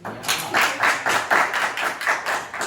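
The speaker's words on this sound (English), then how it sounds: "A round of applause for them." A small audience at a talk-show event claps, a close, rhythmic patter of hands in about seven distinct swells over a few seconds, with no voices.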